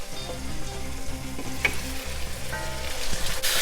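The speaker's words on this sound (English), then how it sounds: "And fry a little bit more." Stuffed chicken fries in a pan with garlic and spice, giving a loud, even sizzle with a few light stirring knocks, heard close and without talk.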